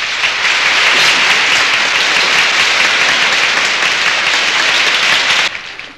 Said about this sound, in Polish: Słyszy pan te oklaski pół sali Polaków.